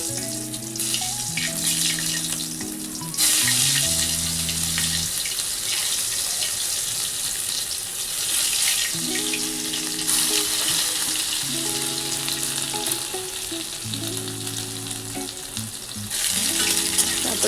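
Black mustard seeds, a bay leaf and a whole dried red chilli sizzle in hot oil for lau shukto, a steady crackling fry running throughout with stirring clatter, and pulsing hum tones underneath.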